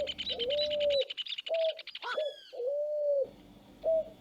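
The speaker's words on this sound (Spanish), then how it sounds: "En la orilla, una paloma picasuró buscaba semillas." Picazuro pigeon cooing on a lagoon shore in summer, a series of close, clear hollow coos in rhythmic phrases alongside chirping from other birds, with no talk.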